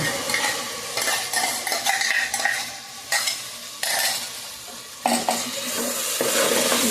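Curry leaves and tomato fry in a pan for a chicken curry, with a steady close sizzle under continuous stirring and scraping. Brief lulls interrupt it before it resumes loudly.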